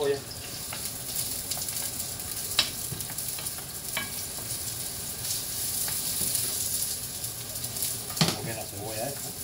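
Onion frying in a pan for caponata alla siciliana, a steady soft sizzle with occasional clicks of stirring utensils, while a voice speaks over it.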